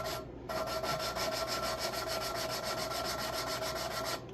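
Valves being lapped by hand in a Farmall 450 tractor engine: a rhythmic, gritty back-and-forth rubbing rasp with a faint ringing edge. It starts after a brief pause and continues steadily up close.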